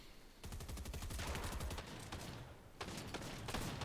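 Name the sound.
SMG gunfire in a battle royale video game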